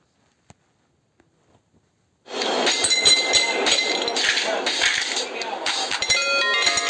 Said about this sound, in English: If we take some ice cube in a glass, then what happen?